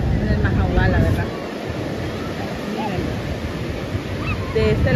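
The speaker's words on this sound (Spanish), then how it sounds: "Miren, ahí se forman las olas." Ocean waves breaking at Playa El Majahual, a loud continuous rush of surf with wind buffeting the microphone and people talking faintly nearby.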